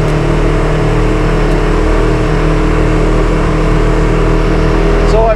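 A Razer 1000XP side-by-side's engine roars loud and steady up close, holding a constant rumble throughout.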